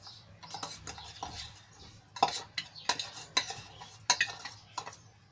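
Spice masala being mixed into cut gunda mango pieces in a bowl for pickle, with soft stirring and scraping and a few sharper clinks of a spoon against the bowl.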